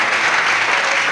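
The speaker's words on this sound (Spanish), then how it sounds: "¿Por qué le damos un aplauso a aquel que se merece toda la gloria?" A church congregation claps during a worship service, a brief burst of dense, loud, even applause with no voices over it.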